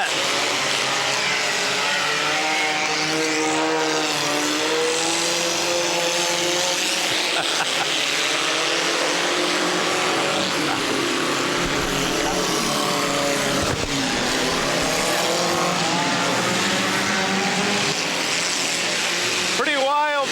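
Race cars and trucks colliding on a figure 8 track, engines roaring steadily and continuously through the whole stretch, with commentators talking over the noise.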